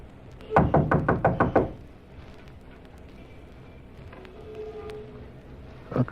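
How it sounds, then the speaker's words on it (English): A series of about eight sharp knocks rapped on a door as a radio drama sound effect, in one quick burst and then silence, followed by a faint thud near the end. "Knock, then stand aside."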